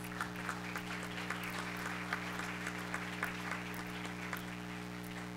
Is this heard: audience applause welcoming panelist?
yes